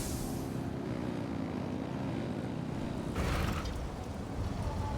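A propeller aircraft engine roaring at full throttle in a Hoyoverse video game, a loud continuous drone that holds steady with a brief brighter rush partway through.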